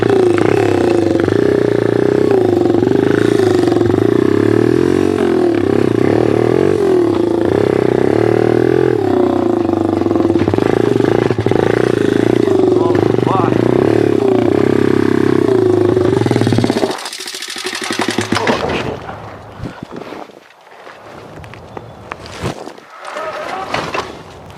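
A small pit bike engine runs on mountain bike trails, with a rear wheel that keeps locking up and stalling it, a loud, steady buzzing drone for about seventeen seconds, then a sudden drop to sputters and rustling.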